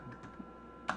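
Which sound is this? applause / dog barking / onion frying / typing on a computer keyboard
typing on a computer keyboard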